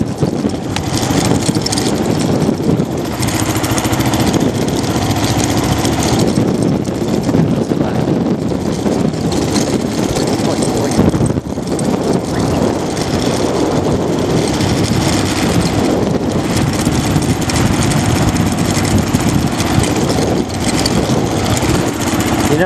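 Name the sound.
Kawasaki KLR650 motorcycle engine while riding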